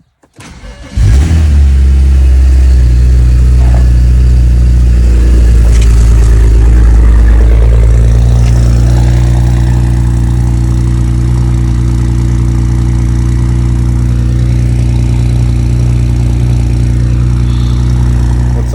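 A BMW E90 with an N54 engine cranks and fires up on a cold day, then settles into a loud, steady, close idle with deep rumble and occasional light revs.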